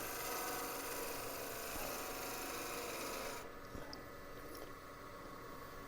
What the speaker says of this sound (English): I'm using the wing of the bowl gouge. And I'm kind of using it as a planer.